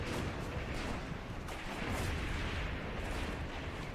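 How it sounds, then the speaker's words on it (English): Russian mortars or guns fire in the Graviteam Tactics war game as continuous distant rumbling booms, dense and muffled, rolling on without pause and with no talking. "I think that's Russian mortars maybe, or guns?"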